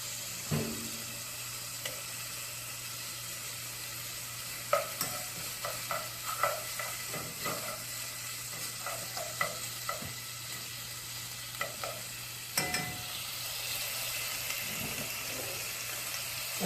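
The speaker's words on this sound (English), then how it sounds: "So we'll get this bacon here frying up again." Steady, hissing sizzle of bacon frying in a pan, with occasional scrapes and taps of a utensil stirring, close by and continuous.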